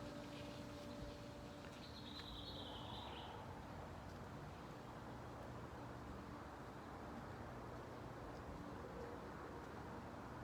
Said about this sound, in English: Hear the birds singing.